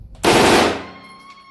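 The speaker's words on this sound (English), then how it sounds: "You're actually shooting really good for a machine gun." A machine gun fires a single loud sustained burst at targets on a shooting range, sharp onset then a ringing decay into quiet, with no talking.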